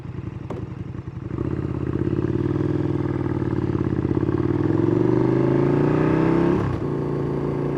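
A motorcycle engine drones loudly nearby on a road in Germany, its pitch climbing steadily as it accelerates and then dropping off sharply, with a steady rumble continuing afterward.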